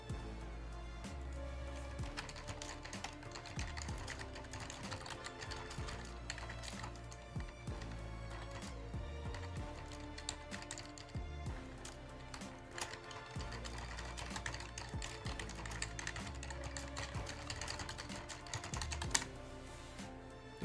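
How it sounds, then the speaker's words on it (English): Rapid computer-keyboard typing during a live stock-trading stream, a steady dense clatter of keystrokes running continuously and fairly close, with no talking over it. "Talking about my typing skills"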